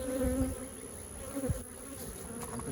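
Angry honey bees buzz in a steady, dense drone at an open hive during an inspection, with a few louder passes as individual bees fly close to the microphone.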